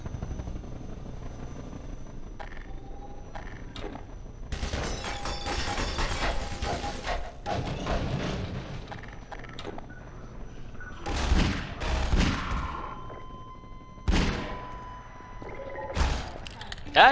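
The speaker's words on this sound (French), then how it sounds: "Attention, il tire encore." Enemy gunfire in the Half-Life 2 video game, several loud bursts of shots and impacts breaking over a continuous low helicopter drone, with quieter stretches between the volleys.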